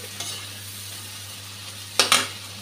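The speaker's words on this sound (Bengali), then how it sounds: "মশলাটা খুব ভালোভাবে ভেজে নিয়েছি" Spice paste with ginger fries in a pan under a low steady sizzle, broken by a few quick scrapes of a spatula against the metal near the end.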